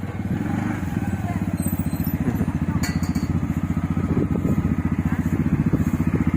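A quad bike engine chugs steadily close by in a rural rice-harvest setting in Surin, Thailand, its rapid putter continuous and fairly loud throughout.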